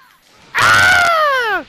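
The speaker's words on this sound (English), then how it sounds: "He had a funny scream, though." A character in a Dragon Ball fighting video game lets out a loud, close, shrill scream. It starts abruptly, holds for about a second and then bends downward in pitch as it fades.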